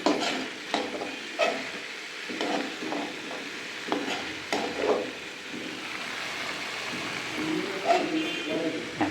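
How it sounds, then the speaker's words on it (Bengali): Pumpkin curry with curry leaves being stirred in a pan, a spoon scraping in short bursts over a steady low sizzle, with people talking nearby. "কারি পাতা পুরো সিদ্ধ হয়ে যাচ্ছে"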